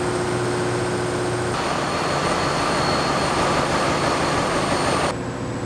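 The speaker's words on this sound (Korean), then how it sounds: "2대의 엔진이 돌아가고 있는 기관실은 소음이 대단하다" A loud, steady mechanical roar from two big engines running together fills a ship's engine room, a constant heavy drone with no voices.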